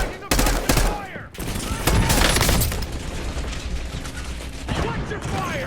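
Bursts of automatic gunfire crack rapidly in the Warzone video game, dense and loud, with shots and echoes overlapping, while shouted voice lines come through amid the shooting.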